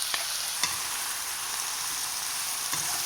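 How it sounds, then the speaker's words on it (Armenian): Pre-washed buckwheat frying in a pan gives a continuous bright hiss and sizzle, with a few soft clicks of stirring, close and steady throughout, with no voices. "գոնե 3-4 րոպե պետք է շարունակենք տապակել հնդկածավալը։"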